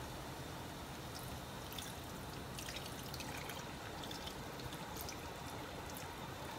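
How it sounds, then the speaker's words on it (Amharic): Water trickles and pours into a pot of beef being prepared for slow cooking, a faint, steady stream with no voices. "ውሃ ጨምርበታለሁ።"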